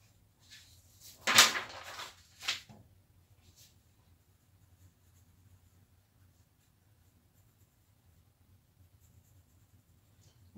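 A red pencil scratches across paper in a few short, quiet strokes, with one louder burst and a brief second stroke, followed by near silence.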